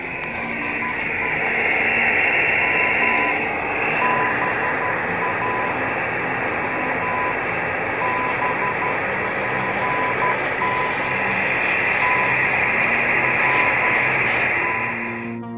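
A radio time signal on an MF/HF receiver marks the full and half hour with a pattern of longer beeps and dashes, repeating under a steady wash of radio static and hiss.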